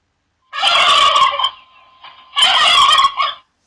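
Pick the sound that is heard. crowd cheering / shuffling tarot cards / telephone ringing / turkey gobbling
turkey gobbling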